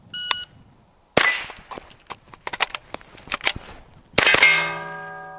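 Gunshots in a Grey Birch Solutions carbon-wrapped barrel test: a few sharp, loud, close reports with metallic clangs and pings, then a final shot whose ring lingers.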